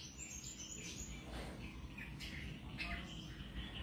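Caged songbirds chirp at a bird show, short bright tweets repeating over a soft steady background hum, fairly faint and at a moderate distance.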